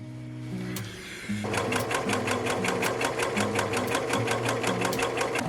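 A sewing machine runs steadily while stitching a vintage-style cottagecore apron, starting after a brief pause into a fast, even mechanical rattle of needle strokes, close and loud with no talking.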